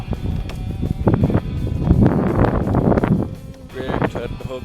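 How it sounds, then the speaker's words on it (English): Wind rushes and buffets the microphone in a loud, rough roar on a fishing boat over choppy water, while a voice speaks over it. "it is windy"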